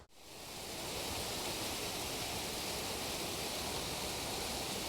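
A small waterfall in Glacier Gorge, Rocky Mountain National Park, gives a steady, dense rushing roar, close and unbroken from start to finish, with no voices.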